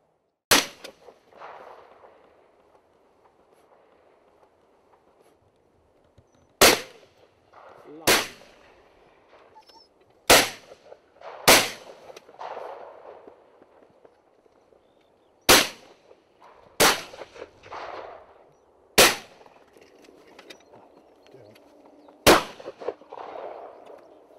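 Shotgun shots fired at pigeons over a pea crop in open fields, about nine sharp loud blasts spaced irregularly several seconds apart, each followed by a short echoing tail over quiet outdoor background.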